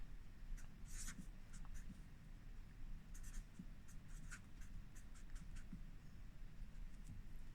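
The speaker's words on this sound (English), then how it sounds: "The first thing that you need to do is always draw the table." Pen or pencil scratching on paper while a table is roughly sketched for a linear graph exercise, with steady scribbling strokes and taps up close over a low background hum.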